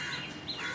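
A small sparrow gives two sharp, high chirps in a tree outdoors, brief and fairly faint against a soft background hiss.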